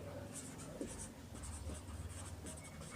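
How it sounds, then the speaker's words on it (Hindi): Chalk or marker writes on a board in a classroom in a steady run of quick, close scratchy strokes, fairly quiet against a busy room background. "ये हम यहाँ लिखते हैं अमेरिगो"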